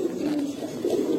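Old-breed high flyer pigeons coo in a soft, continuous low murmur that swells slightly toward the end, close by and steady with no voices.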